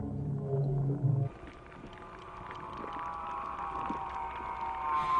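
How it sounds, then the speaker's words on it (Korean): Recorded whale calls play through a large underwater speaker, a low, drawn-out moaning cry in the first second, then fading into murky underwater noise with faint higher tonal sounds. "녀석들의 소리를 녹음한 다음 물속에 대형 스피커를 설치하고 그 소리를 재생해서 들려줄 겁니다"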